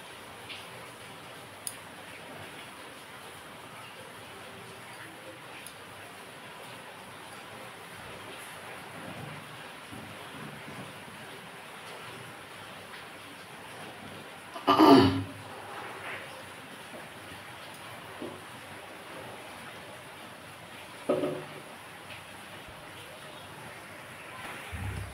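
Hilsa fish for mustard hilsa goes into a pan of boiling liquid. A faint, steady simmering hiss runs throughout, broken by a louder clatter midway and another softer knock later.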